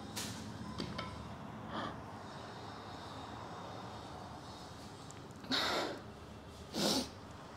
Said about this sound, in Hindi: ऐसे होता है ना कि छींक आने वाली है बट नहीं आती है